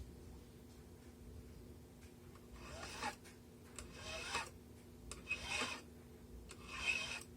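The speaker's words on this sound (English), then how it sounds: "I have a barrette file, and I'm going to file" A barrette file rasping across a metal ring in slow, repeated strokes, each a soft scratchy swish with pauses between, close but faint over a low steady hum.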